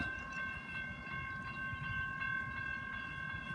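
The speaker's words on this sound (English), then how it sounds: "Another train coming." A manifest freight train rolls by at Folkston, Georgia with a continuous low rumble and rhythmic wheel clatter, overlaid by steady high metallic squealing tones.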